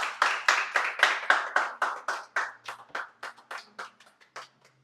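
A church congregation claps together in a steady, even rhythm, around twenty distinct claps. The clapping is strong at first, then grows gradually softer and sparser until it fades out.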